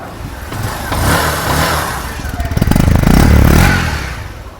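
Close-up Bajaj CT 110X motorcycle engine idling and then gently revved, the exhaust note swelling in a couple of light throttle blips before easing back toward idle, heard alone.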